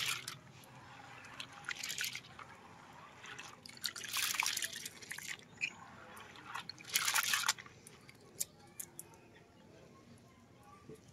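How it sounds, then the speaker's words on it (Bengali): Soaked lentils are rinsed and rubbed in water, giving intermittent splashing and dripping bursts close by at a low level, with quiet gaps between them. "ডালগুলো ভালো করে কষালি দিয়ে ধুয়ে নিই।"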